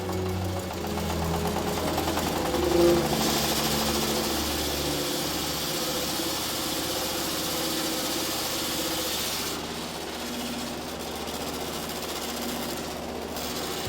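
An old, worn motor mill grinds corn into maize flour with a loud, continuous mechanical drone and vibration that hold steady the whole time, close by.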